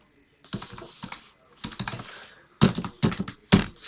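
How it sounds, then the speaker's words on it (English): Bursts of keyboard typing while coding in Python come in short clusters of quick clicks separated by pauses, close and fairly quiet. "typing."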